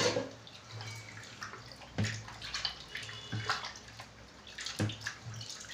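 Water is poured and sloshed over a big fish head being washed with salt in a bowl, splashing and gurgling close up in irregular surges, with no talking.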